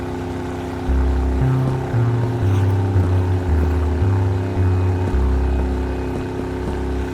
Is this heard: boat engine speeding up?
yes